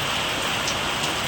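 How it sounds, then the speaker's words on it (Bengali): Heavy rain pours down in a steady, dense hiss that stays loud and even throughout, with no voices or other sounds. "বৃষ্টি আসছে গাইস আজকে বলার বাইরে গাইস।"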